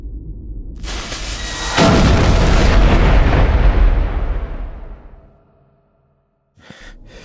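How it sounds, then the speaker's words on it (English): A deadly explosive trap detonates in the dungeon game Treasure of Tarmin: a loud, broad roaring boom that swells after a short lead-in, rumbles for several seconds, fades out and leaves near silence. "Some deadly explosive, possibly intended to destroy a pursuing monster, had detonated in front of him."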